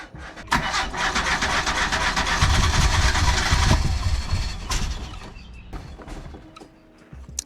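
A 1991 Mitsubishi Galant VR-4 with a 4G63 engine starts, then settles into a rough idle that holds for a few seconds before cutting out into near quiet.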